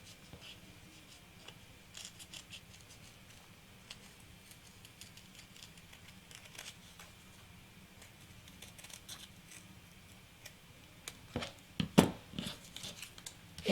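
Scissors snipping through layered applique fabric backed with fusible web, a long run of quiet, close, irregular crisp snips that grow slightly louder and busier toward the end.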